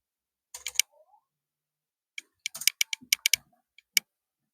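Fingers type a date on a computer keyboard with two quick clusters of crisp, close key clicks separated by a short pause.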